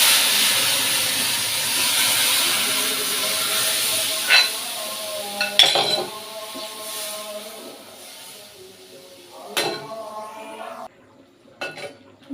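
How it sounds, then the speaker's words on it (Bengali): Dal with raw ginger, turmeric and chili comes to a boil in a pot, giving off a steady steam hiss that gradually fades, punctuated by several sharp metallic clanks of pot and utensils. "এই যে আমার ডাল বলক এসে বসছে"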